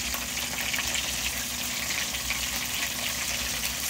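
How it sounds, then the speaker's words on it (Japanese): Chicken wings seasoned with grated ginger, garlic, soy sauce, salt and pepper, coated in potato starch, deep-fry in hot oil, giving a loud, continuous bubbling sizzle that stays dense and even from start to finish. "片栗粉をつけて揚げております"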